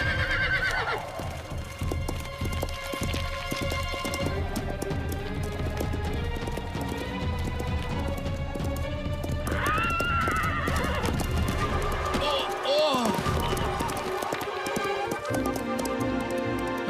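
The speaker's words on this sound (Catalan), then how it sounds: "Aquest cavall té ales a les peülles." A horse in an animated children's adventure on the plains whinnies loudly and gallops with steady clip-clop hoofbeats, over a busy orchestral music bed for the whole stretch.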